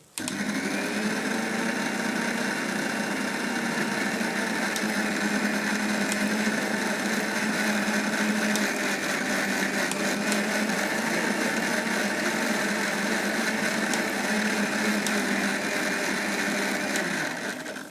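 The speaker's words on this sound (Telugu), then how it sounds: "మిక్సీలో చేస్తున్నాం" A mixer grinder runs continuously, blending wheatgrass with water for juice, giving a loud, steady motor whine with a sustained buzzing tone that holds for the whole stretch before cutting off at the end.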